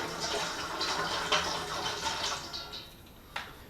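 Tap water pours and splashes steadily at close range, a continuous hissing rush with a few sharper splashes and sputters near the end.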